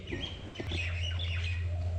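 Birds call around a jungle eco resort on Matha Buru hill, Purulia, giving clear chirps, squawks and quick whistled notes in overlapping bursts, fairly close, over a constant low hum, with no speech.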